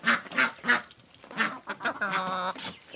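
Ducklings quack in close, repeated, bright calls, a quick series of short peeps and one longer, drawn-out quack.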